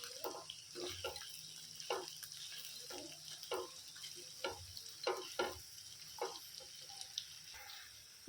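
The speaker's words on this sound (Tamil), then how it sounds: "வெங்காயம், பூண்டு, இஞ்சி, அப்புறம் இந்த ரோஸ்மெரி தலையோட ஸ்மெல்லு, எசன்ஸு எல்லாம் நல்லா இறங்கி ஒரு அருமையான ஒரு டேஸ்ட்டை வந்து இந்த வாத்துக்கறி கொடுக்கும்." Duck curry cooks in a pan with onion, garlic, ginger and rosemary: a steady sizzle runs underneath while irregular stirring scrapes and knocks sound close up, with no talking.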